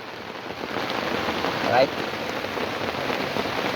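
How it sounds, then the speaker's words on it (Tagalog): Steady rain falling outdoors on a patrol, a continuous dense hiss of drops on surfaces with a brief louder patter midway; a voice speaks a single word. "Ulan kayo, ulan. Ulan din sa bukid."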